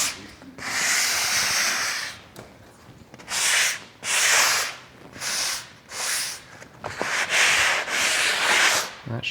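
Hand sanding scrubs off off-gassing bubbles from a previous coat in a garage, repeated loud, rasping strokes in bursts of about a second with short pauses between them, close up.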